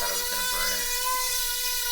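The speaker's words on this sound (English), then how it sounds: "Sanding it down, Salty's favorite pastime is sanding." A power sander whines steadily against a wooden planter box, a bright continuous high-pitched whir heard close up, with a little faint voice early on.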